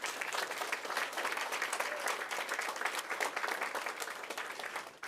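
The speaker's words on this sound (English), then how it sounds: "Can we make a round of applause for them?" Crowd applause at a school board meeting honoring student sports programs, a full, steady roar of many hands clapping for about five seconds, no voices over it.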